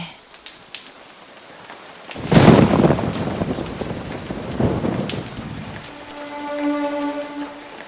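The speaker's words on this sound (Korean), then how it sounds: "오늘도 비가 오는구나" Heavy summer downpour over the Yangyang area: a dense hiss of rain that swells suddenly after a quiet start, with a deep rumble under it, then a high, steady electronic tone near the end.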